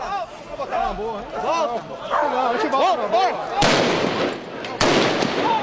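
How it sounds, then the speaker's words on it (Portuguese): Two sharp, loud gunshots fired into the air by a police officer ring out about a second apart over a noisy crowd of agitated voices. "policial saiu dando tiro pro alto para afastar o jornalista"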